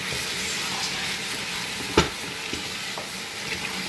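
Food sticking to the bottom of a pan for chicken handi is stirred through a steady frying sizzle, with a sharper scrape near two seconds and a few softer clinks after it.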